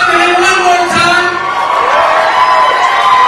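Wrestling show crowd cheering and whooping, a steady wash of many voices with scattered shouts held at an even, loud level throughout.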